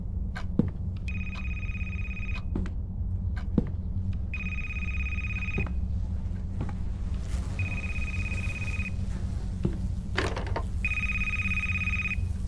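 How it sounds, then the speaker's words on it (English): In the haunted library of the game A Place Forbidden, a phone keeps ringing, four evenly spaced electronic bell bursts over a droning low background with scattered knocks and clicks. "Where's the phone?"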